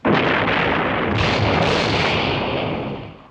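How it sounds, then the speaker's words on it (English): Mortar shells exploding on mines as a war-film sound effect, a loud sustained rumbling blast that fills the whole clip and tails off at the end, with no voices. "Our mortar has hit their mines."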